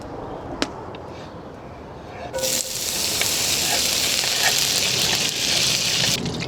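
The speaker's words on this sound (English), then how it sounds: "It's got that frying pan going." Beef tallow sizzles in a hot frying pan, a sharp click followed by a sudden loud crackling hiss that swells after a couple of seconds and continues steadily.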